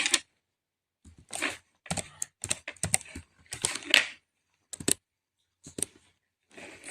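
Code is typed on a computer keyboard in crisp, close clusters of keystrokes. Short bursts of clicking are separated by silent gaps as someone enters C program text.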